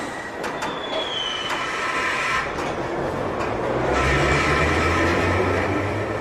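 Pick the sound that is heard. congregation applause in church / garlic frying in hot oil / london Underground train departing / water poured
london Underground train departing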